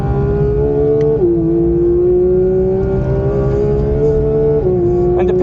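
A GT3 race car engine drones steadily and loud on track, its pitch holding under balanced throttle and then dropping as the driver brakes hard for a tight right-hand corner, with faint tire noise beneath.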